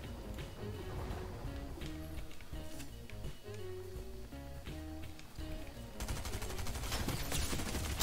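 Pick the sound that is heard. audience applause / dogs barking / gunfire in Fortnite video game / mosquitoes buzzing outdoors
gunfire in Fortnite video game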